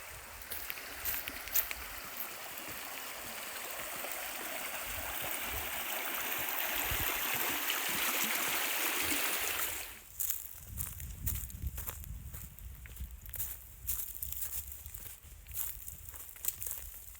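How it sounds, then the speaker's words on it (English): Small river flowing through spring woods on a hiking trail, a steady broadband wash of running water for about ten seconds, then quieter with close footsteps and crunching on the path. "look at this beautiful little river"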